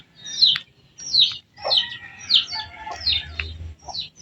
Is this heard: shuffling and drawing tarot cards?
no